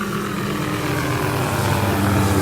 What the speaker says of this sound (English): Mosquito control helicopters flying overhead here.